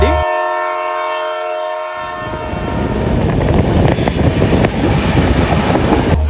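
A train at Hyderabad Deccan (Nampally) railway station, a horn blaring with steady tones at the start, then loud rolling rumble and rattling of passing railcars filling the rest, no talk.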